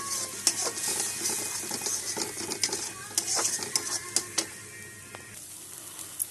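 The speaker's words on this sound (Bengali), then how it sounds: "এখন সব একসাথে নেড়ে শুকিয়ে দেবো" A spoon scrapes and stirs a pointed gourd mash seasoned with salt and turmeric in a pan, with a steady low sizzle beneath repeated close scraping strokes and a few sharp clinks of utensil on metal.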